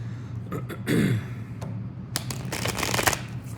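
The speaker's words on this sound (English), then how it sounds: "Gonna give you guys another shuffle." Tarot cards being shuffled in two or three quick riffling bursts, close to the microphone, with brief pauses in between.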